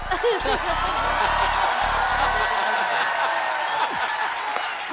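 A studio audience at a comedy show claps and cheers loudly and steadily, with a voice speaking over the applause.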